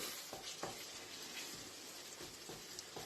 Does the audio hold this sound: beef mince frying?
yes